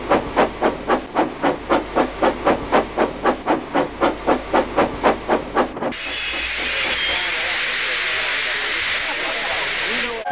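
Steam train sound effects: rhythmic locomotive chuffs, about twenty evenly spaced puffs, then a steady loud hiss of escaping steam filling the rest.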